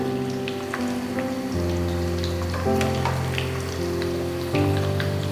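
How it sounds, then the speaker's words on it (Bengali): Chopped onions sizzle and crackle in hot oil in a pan for a cauliflower dish, a steady close hiss of scattered pops, with a faint tonal hum underneath. "এবার এর মধ্যে আমি পেঁয়াজটা ভেজে নেব।"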